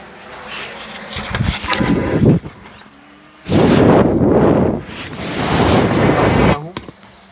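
Bursts of loud rushing, hissing air from a steamer during an air test, a short blast followed by two longer sustained gushes with brief pauses between.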